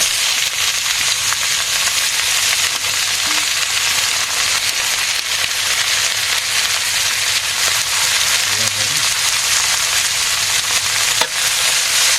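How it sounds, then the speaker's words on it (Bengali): Banana flower tossed into a pan of fried onions sizzles loudly and steadily, a dense, continuous frying hiss that fills the whole stretch with no voices. "পেঁয়াজ ভাজি হয়েছে এখন কলা মোচাটা দিয়ে দেবো"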